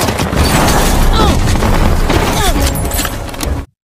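Gunfire from a sniper battle in an action film scene: loud booming shots and crackling bursts layered over dense cinematic effects, then cut off abruptly at the end.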